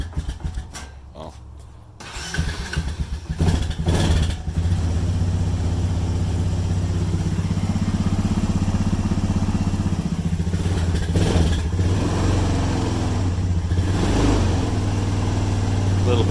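An ATV engine cold-starts in 39°F weather, catching after a few seconds and then settling into a steady, loud, close idle that continues alone.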